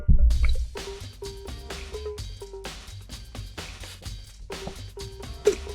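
Someone sipping bottled water, a few short wet drips and squishy liquid sounds in quick bursts, fairly close and moderately quiet, with no talking.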